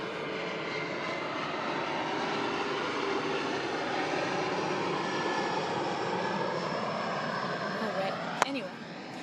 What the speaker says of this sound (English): I'm sitting right under the airport flight path. Here's the plane.